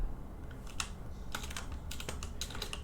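Fingers type on a computer keyboard, giving a quick run of close, light clicks in small bursts with no voice over them.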